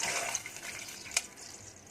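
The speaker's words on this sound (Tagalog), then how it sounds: "Nilalagyan ko ng kalahating tubig." Water pours into a pan of tomato sauce for Italian parmigiana, a soft steady splashing and trickling stream with a small clink partway through, fairly quiet and without talk.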